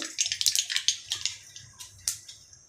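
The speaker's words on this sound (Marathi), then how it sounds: "आपली मोहरी आता तडतडलेली आहे" Mustard seeds crackling in hot oil with asafoetida for a tempering: rapid, irregular sharp pops close by, thinning out toward the end with a final burst.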